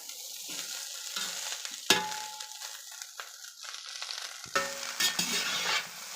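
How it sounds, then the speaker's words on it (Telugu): Chicken fried rice tossed in a pan over high heat, with a steady close sizzle broken by sharp scraping stirs and a couple of louder tosses, no voices. "ఇప్పుడు మనం హైలో పెట్టేసుకొని బాగా టాస్ చేసేసుకోవాలి ఈ చికెన్ ఫ్రైడ్ రైస్ని"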